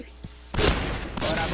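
Loud bursts of machine gun fire in a shooting video game: a few faint pops, then a heavy, rapid volley that runs about a second and resumes in a second burst.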